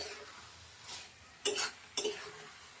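A spatula scrapes and clinks against a pan while stirring dry shutki fish and winter vegetable curry, two sharp metallic scrapes standing out over a faint background, no talk.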